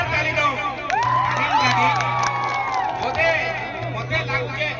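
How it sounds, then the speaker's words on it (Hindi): A crowd at an outdoor community festival cheers, whoops and shouts loudly after being urged to clap. The sound is a dense roar of many voices, with some children's shouts in it. "जोरदार ताली दो"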